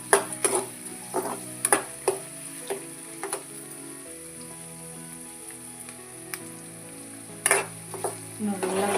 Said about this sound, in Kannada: ಶುಂಠಿ ಬೆಳ್ಳುಳ್ಳಿನ ಜಜ್ಜಿಟ್ಕೊಂಡಿದ್ದೆ ಅದನ್ನು ಹಾಕ್ಕೊಂತ ನೋಡಿರಿ ಚೆಂದಾಗ ಸ್ವಲ್ಪ ಎಣ್ಣೆಯಾಗ ಎಲ್ಲ ಈಗ ತಿರುಗಾಡ್ಕೊಂತ ನೋಡಿ